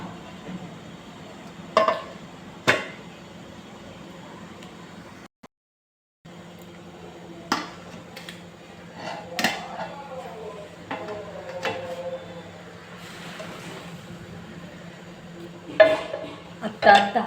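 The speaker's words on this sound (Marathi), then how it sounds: "आता यावरती एक झाकण ठेवून देते" A lid set over a pot of steamed rice-flour modaks filled with fresh coconut, with scattered metallic clanks and clinks of cookware, a brief silent gap, and someone talking intermittently.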